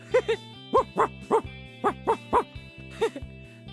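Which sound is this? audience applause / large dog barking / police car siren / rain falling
large dog barking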